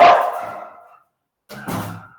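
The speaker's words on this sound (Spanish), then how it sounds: "Perdón, me ladré el perro." A dog barks nearby during an online class, one sharp bark that fades out, then a short pause and a second, rougher bark or yip.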